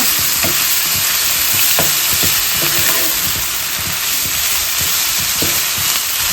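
Chicken sirloin sears in a hot pan with a loud, steady sizzle that runs throughout, broken by the occasional clack of a utensil stirring the meat.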